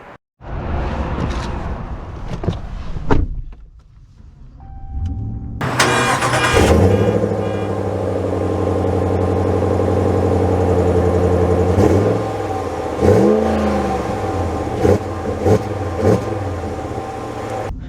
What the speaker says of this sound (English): let's see how it drives